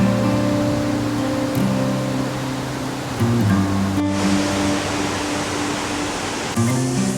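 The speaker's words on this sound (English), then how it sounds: "but a very impressive waterfall" A waterfall near Sendai, Japan, roars steadily and loudly, a dense unbroken rush of water with a low hum running underneath.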